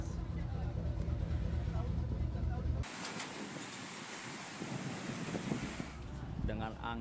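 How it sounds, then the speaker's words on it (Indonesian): Strong wind at sea around a sunken coal ship in high waves, a loud continuous roar of wind and surf that shifts abruptly in tone partway through, with voices over it. "Angin yang kuat."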